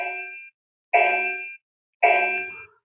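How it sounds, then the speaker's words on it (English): A laser dry-fire range target sounds three electronic gong clangs, each a bright, ringing tone lasting about half a second with short pauses between, clean and without talk. "it will light up in red and give us a sound, what we call a gong sound"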